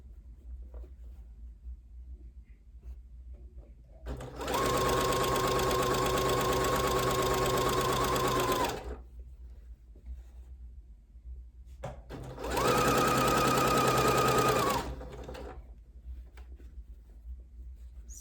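Sewing machine stitching fabric for a hair scrunchie, two sustained bursts of steady motor whir separated by a quiet pause, close and loud with no talking.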